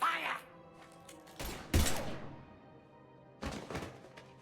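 Gunfire in Mass Effect Legendary Edition: two loud bursts of shots, a second one a moment after the first and another pair later on, over a steady background of game music and ambience.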